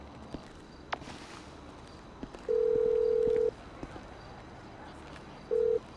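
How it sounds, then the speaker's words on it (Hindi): A phone call being placed in GTA 5: two flat electronic dialing tones, the first lasting about a second and the second shorter, with faint footsteps and soft clicks between them. "इन दोनों को फ़ोन करके बोल देता हूँ"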